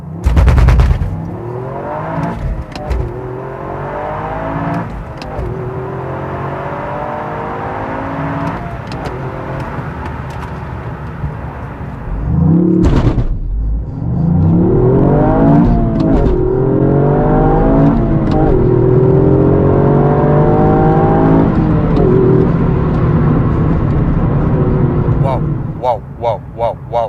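A Toyota GR Yaris launches hard, the engine revving up through repeated rising gear pulls with sharp pops and crackles, loud inside the cabin, while a person talks over it.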